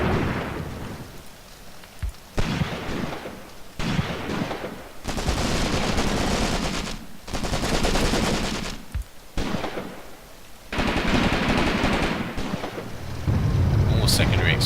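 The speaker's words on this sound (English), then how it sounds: "More secondary explosions from the Marder." Secondary explosions from a burning Marder vehicle in a war video game, a series of loud bursts and crackling blasts in repeated waves separated by brief pauses, rumbling close and heavy throughout.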